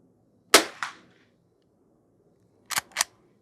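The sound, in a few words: gunshot from Henry H001 lever action rifle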